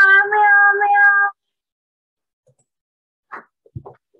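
A cat meows in a Scratch coding project, giving one drawn-out, clear meow followed by silence and then a couple of short, soft plops and clicks.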